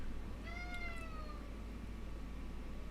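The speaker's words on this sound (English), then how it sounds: "My cat." A cat gives a single close, drawn-out meow that slides down in pitch, heard over a steady low hum in an indoor room.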